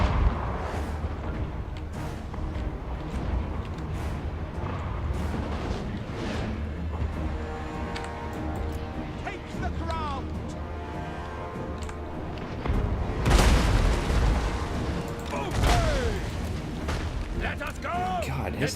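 Artillery in a Total War: Warhammer battle fires repeated booms over a busy battlefield din, with a heavier cluster of blasts later on and someone talking over the gunfire.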